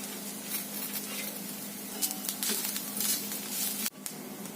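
Fresh grated coconut roasting in a pan with browned onion, giving a steady, crackling sizzle with occasional stirring scrapes and a brief dip near the end.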